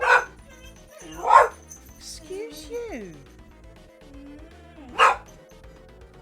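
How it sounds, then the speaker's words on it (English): Indoor dogs bark and yip in sharp bursts, with whimpering, whiny sounds between the barks at moderate distance, while a woman with a British accent speaks briefly over them. "I have annoying dogs."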